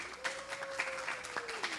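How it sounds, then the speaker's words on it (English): An audience at a third grade spelling bee gives brief, quiet, scattered applause, soft claps in small bursts with a thin sustained tone in the background. "Stand up, please, and give him an applause."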